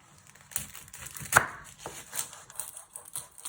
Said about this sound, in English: First step is to chop your ends off your onion